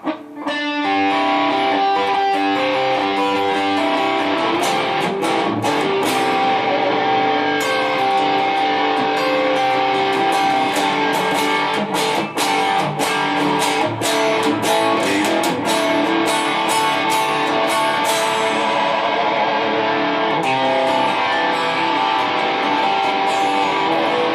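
Loud, continuous distorted electric guitar chords ring out, thick and sustained, with bright strummed attacks throughout, played through humbucker pickups all selected at once.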